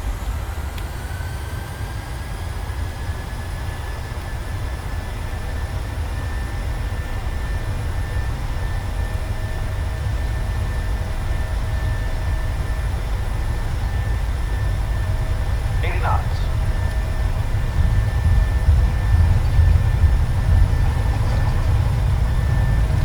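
Boeing 737-700 jet engines in a flight simulator spool up steadily to takeoff thrust, a sustained broad roar with a high whine layered on top that slowly grows louder, with no talk over it.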